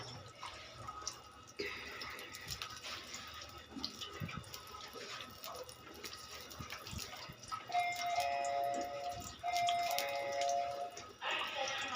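Sago pearls are washed in water, giving soft sloshing and dripping splashes with some running water, fairly quiet and close, with a faint tonal chime in the background.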